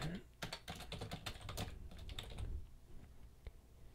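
Rapid clattering keystrokes on a computer keyboard, close and fairly quiet, in quick irregular bursts that thin out toward the end, with no speech.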